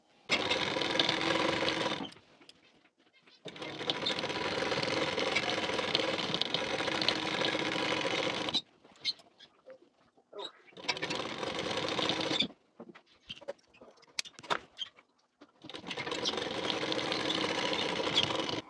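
Sewing machine stitching a waistband onto a blouse in bursts: several long runs of fast whirring needle chatter broken by pauses with faint handling clicks, close and steady during each run.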